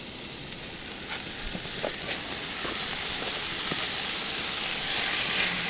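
Ground beef, a 1.7-pound batch of hamburger meat, browns in a pan as a steady close sizzle with light scraping clicks from stirring, without any voices.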